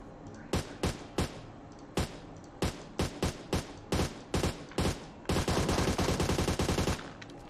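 Gunfire rings out in PUBG Mobile on the Miramar desert map: loud, sharp single shots and short bursts spaced irregularly, then a sustained rapid automatic burst that stops abruptly near the end.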